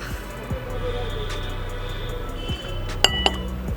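Tea poured from a pot into cups, then a couple of bright glass clinks as cups touch in a toast, close by over a steady low background hum, no talking.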